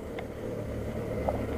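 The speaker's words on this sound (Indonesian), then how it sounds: "Anginnya agak-agak ini guys, agak parah. Anginnya agak parah tuh" Strong gusty wind buffets a high outdoor spot near a flapping flag, a steady broadband roar filling the whole stretch with no voices.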